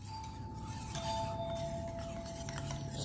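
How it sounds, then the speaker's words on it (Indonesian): Batter being stirred in a bowl after salt is added for fried chicken, giving light clinks and scraping of utensil against the bowl over a steady background hum, with no talk. "Oke, kita akan aduk sampai merata"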